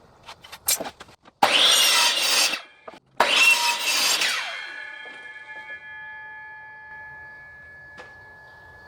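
Saw cutting through wood during a speaker tester build: two loud, close bursts of rough rasping cutting, followed by a fading ringing hum and quiet.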